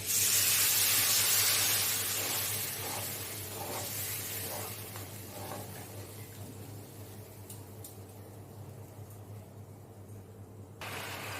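Water splashing into hot fried spice paste with released oil for a fish curry, a loud broad hiss bursting at the start and then settling into a steady, gradually fading sizzle, no voices.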